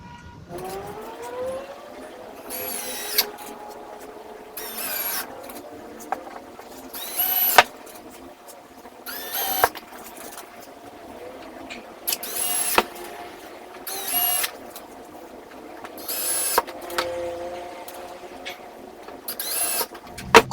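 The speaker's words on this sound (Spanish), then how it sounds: "podremos proceder a colocar los tornillos desde los laterales hacia la parte frontal y" A power drill drives screws into the sides of a melamine drawer box in brief, repeated bursts spaced a couple of seconds apart, fairly close, with quiet gaps between each run.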